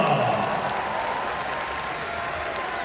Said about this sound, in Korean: 장성원 선수가 큰 부상이 아니길 팬분들의 응원의 박수를 부탁드리겠습니다